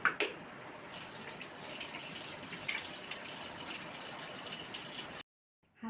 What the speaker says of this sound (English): Firstly, you have to wash your hands.